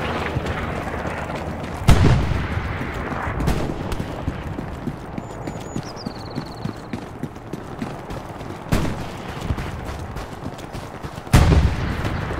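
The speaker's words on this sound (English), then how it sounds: "I hear a gunshot." Several loud booming gunshots in a video game, spaced a few seconds apart over a continuous rumbling background, with a brief whistling tone in between.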